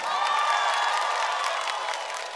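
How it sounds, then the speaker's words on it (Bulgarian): A concert crowd applauds and cheers in a sustained, even roar of clapping and whistling voices that fades slightly toward the end. "аплодисменти за Борчвор!"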